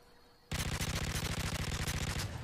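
Gunfire in a video game, a sudden sustained burst of rapid automatic shots, loud and close in an even rhythm, following a brief quiet moment.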